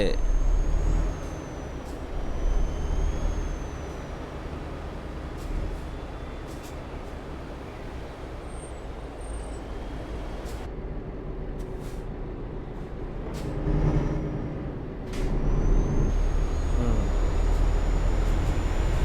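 A heavy truck in Euro Truck Simulator 2 hauling a low loader trailer rumbles steadily, with sharp hissing air brake releases at intervals over the continuous engine and road drone.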